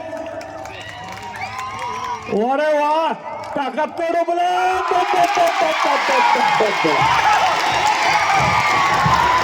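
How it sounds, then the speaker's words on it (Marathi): A crowd at a kusti wrestling bout in Ratnagiri in 2025, Sikandar Shaikh versus Bhola Singh, swells into loud, dense cheering and clapping. Someone talks excitedly over it at first, then the roar carries on beneath. "या कुस्तीसाठी एकदा जोरदार टाळ्या होऊ द्या"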